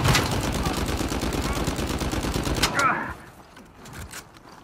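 Rapid gunfire from an Uncharted 4 survival mode fight in a train wreck stage, a loud, dense burst of automatic shots for about three seconds, then scattered quieter thumps and effects.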